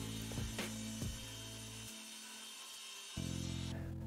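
A power saw trims the rough ends off a glued-up wooden cutting board blank, a loud tonal whine that cuts out and then restarts, with a few sharp knocks early on and no speech.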